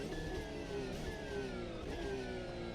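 Porsche race car in a sim racing game, its mid-pitched engine revving loud and continuous while it laps, with the pitch rising and shifting throughout.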